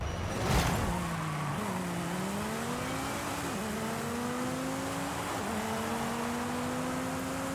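Car engine in Forza Horizon 5 revs steadily upward in several long pulls, with brief dips at each quick gear shift, loud and continuous with no talk.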